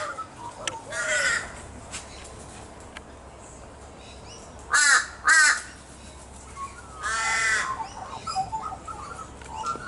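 Crows caw loudly in a suburban morning in Nerang, with several harsh bursts: one early, two sharp close calls near the middle, then a longer run of caws, over steady background bird chatter.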